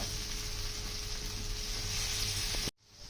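Tomato and garlic fry in oil in a pan for bhuna keema, a loud, even hiss of sizzling held close and unbroken until it cuts off abruptly near the end.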